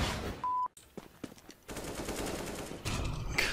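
Rapid gunfire crackles through a CS:GO match, with sharp separate shots early on, then denser overlapping bursts that rise toward the end, heard fairly close and with no talk over them.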